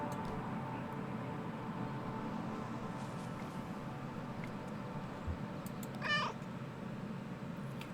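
A single soft cat meow sounds from the video game Kentucky Route Zero, brief and fairly faint over a low, steady ambient hum.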